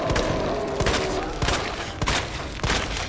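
Handgun fire in the Resident Evil 2 Remake video game, several sharp, loud shots spaced irregularly over a few seconds against a busy game backdrop with no talk.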